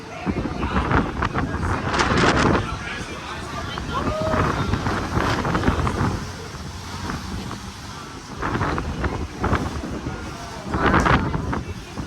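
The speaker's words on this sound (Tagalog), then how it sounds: "Sarap ng simoy ng hangin." Gusty sea wind buffets the microphone in rumbling waves on a cruise ship deck, with a steady rush of open-air noise and occasional voices faintly underneath.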